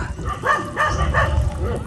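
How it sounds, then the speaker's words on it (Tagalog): Several dogs bark and yip in a quick series of three or four calls near a dam during a family fishing outing, close and loud, with people talking over them. "Dito po sa maraming aso."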